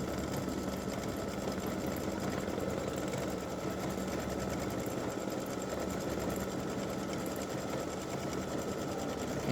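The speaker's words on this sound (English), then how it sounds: "it'll go around and do the satin stitch all around the bunny" An embroidery sewing machine runs a satin stitch around a bunny design, its needle chattering in a rapid, steady, continuous rhythm at close range with no talking over it.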